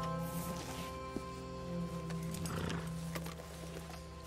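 Hooves clip-clop close by and a horse gives a short whinny in Red Dead Redemption 2, over a soft steady game score with no talking.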